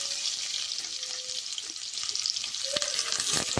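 Onions spit and sizzle in hot oil in a pan for a chicken green gravy, a bright steady hiss with a brief scrape or clink near the end.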